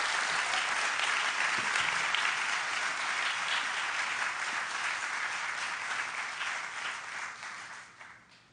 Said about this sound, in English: Would you please give the TOs just an amazing round of applause